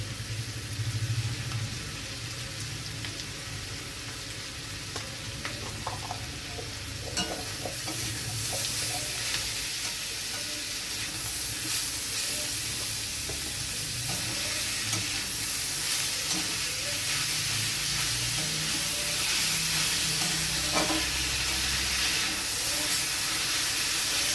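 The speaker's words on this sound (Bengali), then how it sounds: "লবণটা দিয়ে আমি আবারও ভালো করে ফুলটি দিয়ে নেড়ে নিচ্ছি বাঁধাকপিটা আরও মজে গেছে" Salted cabbage with coconut is stirred in a hot pan, giving a continuous hissing sizzle with soft scrapes and clinks of a spoon that grow fuller and louder partway through.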